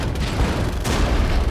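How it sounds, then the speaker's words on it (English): Mortar shells bursting in a war video game of regiment-scale combat, a continuous low rumbling barrage of booms with a sharper blast near the middle, dense and loud with no talking. "Our mortars are coming in."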